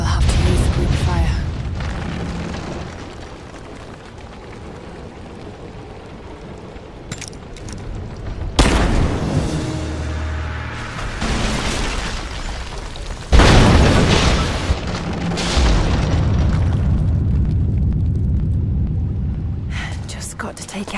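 In Rise of the Tomb Raider, Greek fire explodes against the supports of a statue, giving several loud booms and crashes with rumbling debris, separated by quieter stretches in which there are voices.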